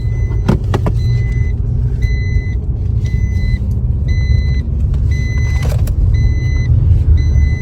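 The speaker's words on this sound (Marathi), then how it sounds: "गाडी आवाज करपा लागली." A car engine runs with a steady low rumble while a repeating electronic warning chime beeps at regular intervals close by inside the vehicle.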